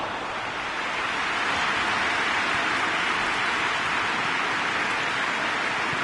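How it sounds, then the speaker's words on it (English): In the football game PES 2020, rain begins falling over the stadium as an even, dense hiss that holds steady and fills the background, with no commentary over it. "Rain starting to fall here."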